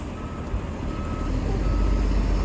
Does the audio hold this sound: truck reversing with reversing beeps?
yes